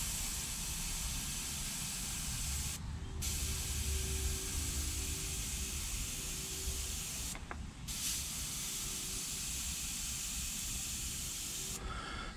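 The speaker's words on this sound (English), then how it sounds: "I got my airbrush, I got my compressor set on about 20, 25 pounds of pressure" An airbrush fed by a compressor at about 20 to 25 psi sprays thinned paint in a steady, close, continuous hiss, broken by two or three brief pauses where the trigger is released.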